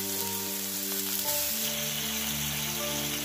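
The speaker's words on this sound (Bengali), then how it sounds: "কড়াইশুঁটিটা ভাজা হয়ে গেছে, এবার দিয়ে দিলাম ধনে পাতা বাটা" Peas and garlic frying in a pan give a steady, close sizzle that runs unbroken for the whole stretch, with no voices over it.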